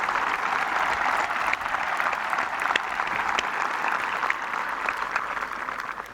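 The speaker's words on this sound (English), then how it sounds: "Please join me in giving them a round of applause" A commencement audience applauds for the school trustees, a steady, full round of clapping from a large crowd that holds at an even level throughout.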